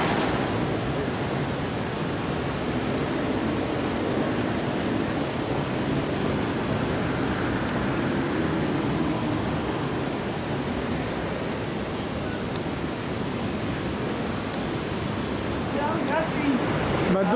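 The small Bostonais river near Grandes Piles and La Tuque, Canada, rushes beneath a bridge as a steady, broad wash of flowing water, constant and fairly loud from start to finish.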